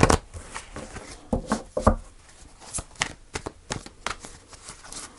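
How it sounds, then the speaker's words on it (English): Tarot cards being shuffled by hand in a series of quick riffling bursts, close and crisp, with short pauses between them and no talk. "One more shuffle."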